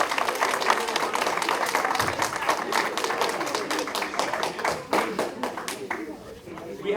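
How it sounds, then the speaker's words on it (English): A round of applause in a high school government class: a modest group clapping, with distinct individual claps, steady then thinning toward the end. "Round of applause."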